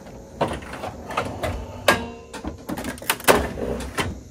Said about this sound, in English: open the cartridge access door on the front of the printer like this